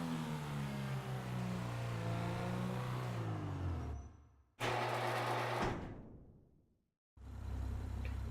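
Ocelot Pariah sports car in GTA 5 revving hard, engine pitch climbing through gears, cutting out abruptly, roaring back, fading to silence, then returning; loud and close with no voices.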